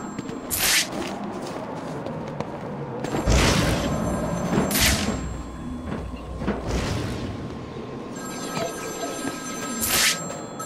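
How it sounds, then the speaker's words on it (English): A telephone rings in the Batman: Arkham video game, several separate bright rings spaced a second or two apart over a low ambient hum, no one speaking. "There's a phone ringing somewhere."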